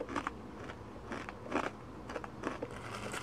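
Crunchy tagaktak, a Mandaue delicacy, being bitten and chewed up close, with several sharp crackling crunches in irregular bursts over a soft background and no talking.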